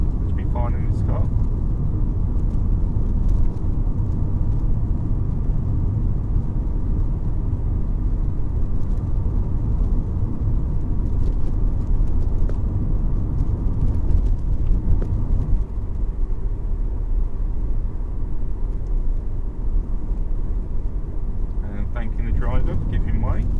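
Car on a UK road holding about 30 mph as the driver shifts up into fourth gear, a steady loud engine and road rumble throughout with wind noise and occasional voices over it.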